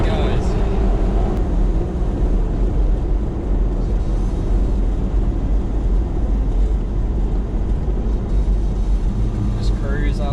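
A cammed Toyota TB42 engine pulls up from low revs in third gear on a trail, making a loud, steady low drone that stays constant throughout, with possible faint talk underneath.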